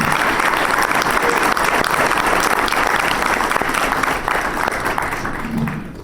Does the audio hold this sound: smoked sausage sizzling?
no